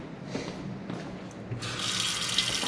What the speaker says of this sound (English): Fill ourselves up with some water and boil a healthy serving of pasta.